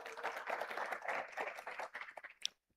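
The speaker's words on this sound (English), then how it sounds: "Give him a big round of applause as he comes up." A conference forum crowd claps steadily at moderate volume as a speaker comes up, the clapping thinning out and stopping near the end.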